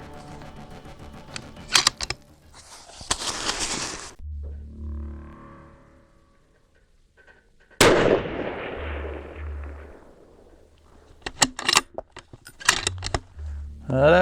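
A 16-inch .308 Win rifle fires 168gr Sierra MatchKing rounds at long range, several sharp loud cracks spread across the stretch, each followed by a decaying rumble, with quieter gaps between shots.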